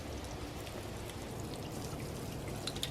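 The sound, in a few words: watering chrysanthemum flowers with water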